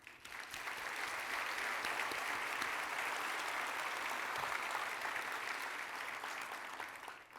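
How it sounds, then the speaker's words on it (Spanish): Audience applause at a welcome forum for families at a Jesuit university in Mexico, a steady dense clapping that swells in quickly, holds evenly for several seconds and tapers at the end, fairly distant and without speech. "un aplauso por su presencia."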